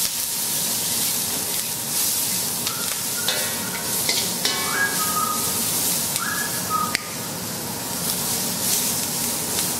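Onions sizzle and hiss steadily in a hot wok on a Capital Culinarian range, with scraping stir strokes and brief clanks of the utensil against the pan, all close and continuous.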